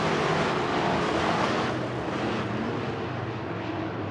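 IMCA race cars roar down the front straightaway at Cocopah Speedway's Winter Nationals, a loud, dense wash of engine noise that holds steady and then eases slightly.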